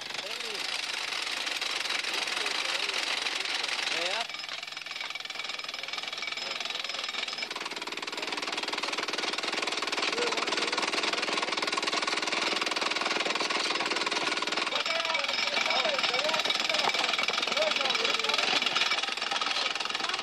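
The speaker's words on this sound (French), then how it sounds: "Les machines percent difficilement des trous dans lesquels on introduit la dynamite." Rock drills bore holes in hard coarse-grained pegmatite granite, giving a continuous rapid pneumatic hammering and engine drone that shifts in pitch and intensity, with a narrator speaking over it.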